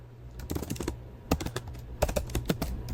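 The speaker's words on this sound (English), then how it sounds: "So we'll go ahead and type Boeing" Quick, irregular keystrokes clatter on a computer keyboard at close range, with no voices over them.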